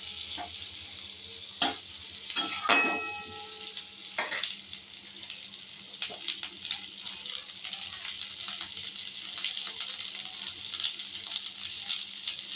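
Papaya and potato pieces stirred and frying in a pan, with a few sharp clinks and scrapes of a spatla early on, then a continuous soft sizzle that carries on steadily to the end.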